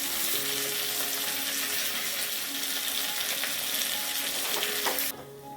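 Onion, two cut dried red chillies and curry leaves fry in hot oil for a taro-leaf curry tempering, a loud, steady sizzle with faint stirring that drops off abruptly near the end.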